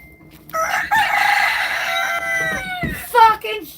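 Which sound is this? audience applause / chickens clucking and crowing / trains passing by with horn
chickens clucking and crowing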